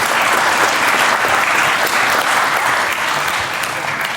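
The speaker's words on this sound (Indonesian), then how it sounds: "Nah ini boleh tepuk tangan dong." An audience at a political speech in Indonesia breaks into sustained, dense applause, loud and continuous for several seconds, with a faint voice beneath it.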